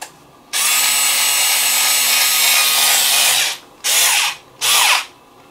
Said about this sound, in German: Und wenn ihr so einen Akkuschrauber nutzt, nicht überdrehen, dann früh genug aufhören